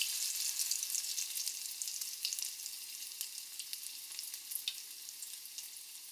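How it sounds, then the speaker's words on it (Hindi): Hot tadka with Kashmiri chilli poured over spinach chana dal, a loud bright sizzle that settles into a steady softer crackle with scattered pops, no voices. "अब तड़के को हम दाल के ऊपर इस तरह से डाल देंगे।"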